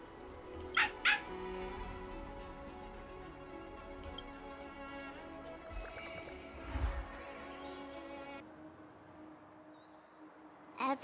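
A puppy in Honkai Star Rail gives a few short yips and barks over a soft musical background, with a quick pair of yaps near the start and another at the end.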